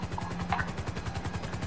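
Helicopter from the GTA 5 video game, a steady rotor chop pulsing evenly and continuously at moderate level, with a constant mechanical hum underneath and no voices.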